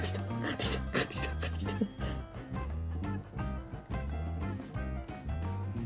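An incoming call sets a telephone ringing in loud, repeating electronic bursts that keep going without a break, close by and alone.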